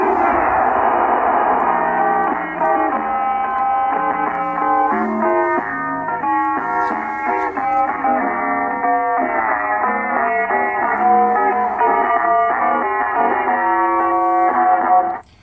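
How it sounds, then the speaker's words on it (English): Harsh, distorted AM broadcast audio from a radio receiver set to CW mode on an early 7-foot receive-only loop antenna, playing continuously and fairly loud for the whole stretch with a garbled, buzzy tone, no talking over it. "The audio sounds terrible because this is not an AM receiver."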